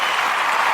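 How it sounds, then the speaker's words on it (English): A short burst of hand-clap sound effect from a podcast recording app, loud, dense and even like a small crowd applauding, with no talking. "let me see if this is a hand clap"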